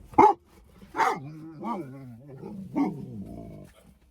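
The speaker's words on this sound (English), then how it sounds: "It's not a very friendly sounding bark" A dog gives a few harsh, unfriendly barks and growly yelps outdoors in a desert wash, spaced irregularly and fairly close, with people's voices mixed in around them.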